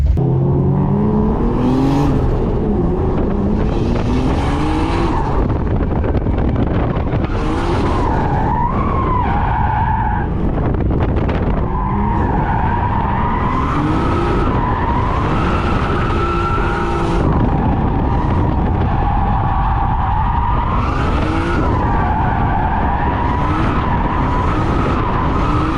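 Cars drift around a course in the Lock City Drift video game, tires skidding and squealing in long sweeping bursts over steady, loud engine revving, with repeated slides throughout and no talking.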